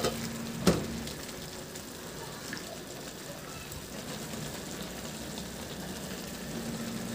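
Carrots, cabbage and other vegetables stir-fried for pansit in a pan, giving a steady low sizzle with occasional scraping stirs, faint and close, and a brief clatter near the start.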